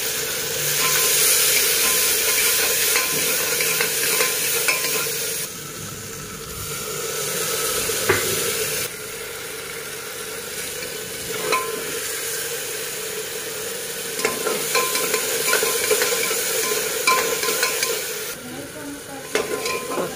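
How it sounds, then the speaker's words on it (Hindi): Spices and onions frying in hot oil for a village breakfast, a steady close sizzle with stirring scrapes and occasional clinks, fading and returning in waves over about twenty seconds. "मसाले अच्छे से भुन गए हैं।"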